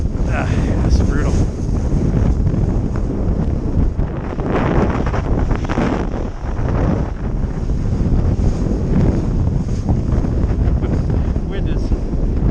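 Strong, gusty wind roars steadily across the microphone on open water during a kitesurfing session with a 12 m Switchblade kite and Duotone Spike board, loud and continuous with surging peaks and no voices.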